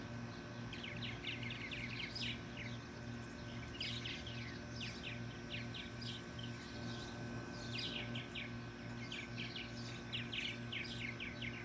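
Sparrows perched on a fence and wire near a purple martin colony chirp in quick, repeated bursts throughout, set over a steady low hum.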